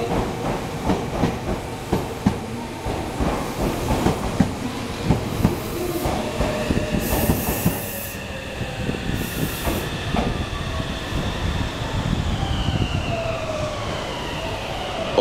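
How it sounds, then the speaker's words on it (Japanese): A Meitetsu 2200 series train pulls into Kanayama station, with rhythmic clacking of wheels over rail joints, squealing brakes and a horn blast, all loud and close. "3番線電車到着です。"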